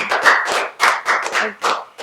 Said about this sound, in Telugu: క్లాప్స్ కొట్టండి మిస్బాకి.